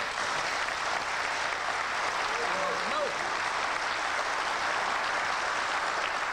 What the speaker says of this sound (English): I think they're worthy of your applause tonight.